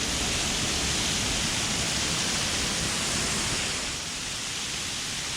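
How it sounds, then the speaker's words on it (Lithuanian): Newly formed waterfalls pour down a mountainside after rain, a steady broadband rushing roar that stays loud and continuous throughout, easing slightly near the end, with no voices. "čia pradėjo nuo kalno kriokliai atsiranda nauji"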